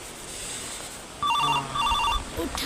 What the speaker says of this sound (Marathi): एवढा सकाळ सकाळी फोन कुणाचा आला?